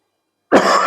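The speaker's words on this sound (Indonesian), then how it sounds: "Aduh, maaf batuk." After a moment of silence, a single abrupt cough bursts out close by, loud and raspy, and is cut off before it ends.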